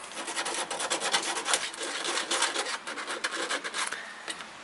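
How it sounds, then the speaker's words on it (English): Sandpaper rubbing by hand over a plastic register plate light cover on a car or truck, a steady close scratchy rasp in quick uneven strokes with no talking. "When I sandpaper that in that way,"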